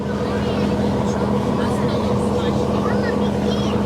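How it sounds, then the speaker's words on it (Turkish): Low, steady engine drone of tour boats departing at Kekova, Turkey, holding for the whole stretch, with indistinct voices in the background. "Bütün tekneler şimdi çıkıyor."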